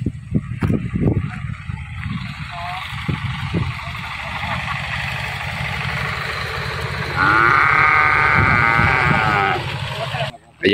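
Cattle at a cow farm selling young bulls, with animal calls heard among farm noise while people talk throughout; one sustained, louder lowing cry stands out near the end.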